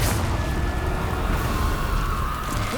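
A Confringo fire spell explodes in Hogwarts Legacy with a loud, rumbling boom that rolls on as a sustained roar and slowly tails off.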